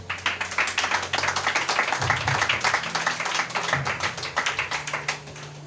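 Church congregation clapping in rhythm to acclaim Jesus Christ during a live worship service, steady dense handclaps with a low sustained tone beneath.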